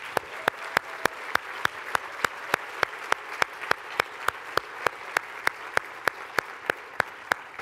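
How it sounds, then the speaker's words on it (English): Applause from an audience at a communications talk honoring a departing events manager, a steady fairly close wash of clapping with evenly spaced sharp claps standing out. "I just want to make sure that we all give her a little bit of recognition and applause."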